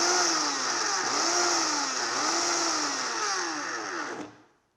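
A blender pulses strawberries, its motor whirring loudly with a rhythmic wobble roughly once a second before cutting off abruptly near the end.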